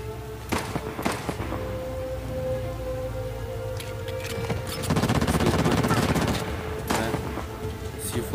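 Rapid video game gunfire, dense bursts of shots crackling close and loud, with a steady rattling stretch in the middle and sharp single cracks at either end.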